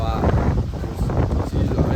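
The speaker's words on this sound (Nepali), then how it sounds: "ओए बवाल हावा" Strong wind by the lake in Pokhara roars and buffets the microphone in a continuous low rumble, with voices faintly mixed in.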